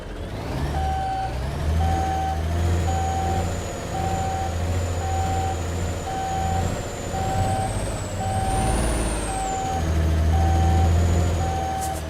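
A heavy truck engine rumbles steadily in Alaskan Truck Simulator, with a loud, evenly spaced reversing beeper pulsing over it throughout and a brief rise in engine pitch near the end.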